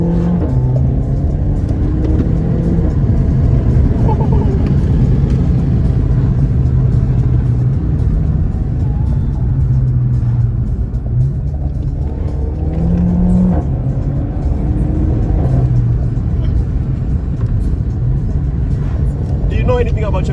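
Renault Mégane RS with stock exhaust accelerating, loud engine roar rising and falling through gear changes with occasional pops, a voice talking over it.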